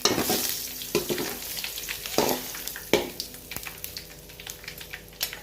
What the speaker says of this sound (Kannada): ಕರಿಬೇವು ಹಾಕ್ಬೇಕು ರೀ ಸ್ವಲ್ಪ ತೆನ್ಯಾಗ ಫ್ರೈ ಮಾಡ್ಕೊಬೇಕು ನೋಡ್ರಿ